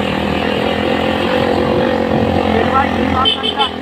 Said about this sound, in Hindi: हमने इंजन ऑन कर दिया